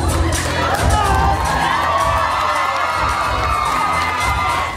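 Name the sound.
crowd cheering for a dancer at a gala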